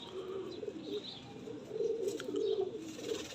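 Teddy pigeons of a Lahore breeding pair coo in low, soft, repeated murmurs close by, with faint chirps and a light flutter in the background.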